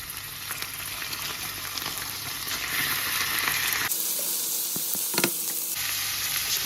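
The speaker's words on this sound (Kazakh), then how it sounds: "Кішкене қуырылғанша бетін жауып қоя тұрамыз." Meat frying in a covered pan gives a loud, dense, continuous sizzle that shifts tone partway through, with a few sharp crackles near the end and no voices.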